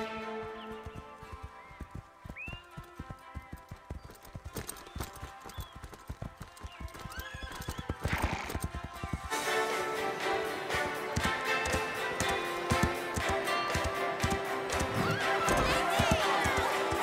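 A cartoon horse in the Horseland series whinnies and gallops, with a bright neigh followed by quickening clip-clop hoofbeats that grow louder and denser, over background music and voices.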